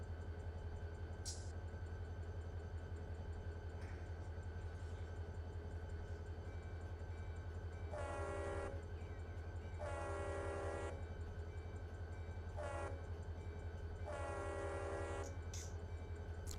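A locomotive horn in Run 8 Train Simulator sounds in several blasts of mixed length, a long-short-long pattern, over a steady low engine rumble heard from inside the cab on the Fitzgerald Sub.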